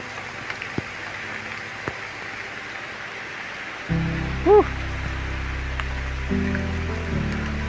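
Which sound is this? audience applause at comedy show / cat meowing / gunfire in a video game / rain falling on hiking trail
rain falling on hiking trail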